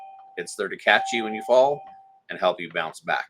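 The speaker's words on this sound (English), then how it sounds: "Sorry about the doorbell there in the background." A doorbell's steady tone rings in the background while a person keeps talking over it.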